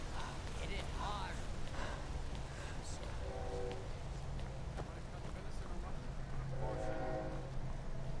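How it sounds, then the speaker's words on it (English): A train rumbles past with two blasts of its horn, a steady heavy rolling drone underneath, while a person talks over it in a Skyrim live stream. "Train."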